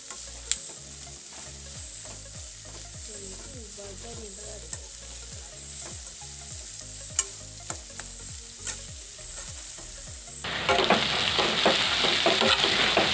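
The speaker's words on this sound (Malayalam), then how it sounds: "അരിഞ്ഞു വെച്ചിരിക്കുന്ന സവാള നമ്മൾ വറുത്ത് വെച്ചിരിക്കുന്ന എണ്ണയിൽ തന്നെ വാട്ടിയെടുക്കുക." Chopped onions sizzle in frying oil left from earlier frying, with a steady close hiss and repeated rhythmic scraping strokes of a spoon stirring them, and the sizzle jumps louder near the end.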